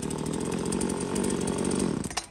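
An Echo V391 chainsaw runs steadily at a loud, close idle-to-high drone before cutting out abruptly near the end with a brief sputter.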